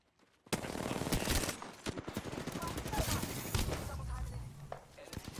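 Rapid automatic gunfire in the game Apex Legends, loud and sustained after a short quiet start, with dense bursts of shots under occasional talk.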